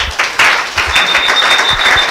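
Studio audience applause on a family call-in program, a brisk, continuous clapping close to the microphone, with a thin whistle-like tone running beneath part of it.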